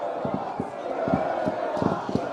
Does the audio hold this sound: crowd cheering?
yes